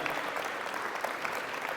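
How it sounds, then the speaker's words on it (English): A conference summit audience breaks into steady, dense applause, a continuous wash of clapping that holds at an even level for the whole stretch with no voices standing out. "let's give a big round of applause to Georgianne, Sonia, and all the volunteers"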